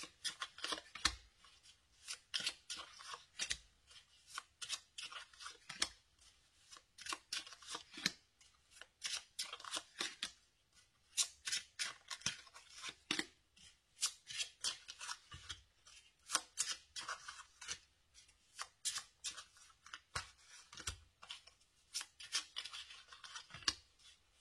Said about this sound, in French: Vous pouvez passer le moment où je pose les cartes parce que ça prend un peu de temps.